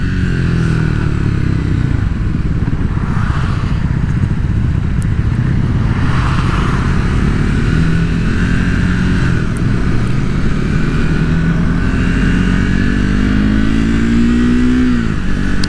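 A 2024 Triumph Speed 400 motorcycle engine revs hard and climbs quickly through the gears, loud and close, droning continuously for the whole stretch.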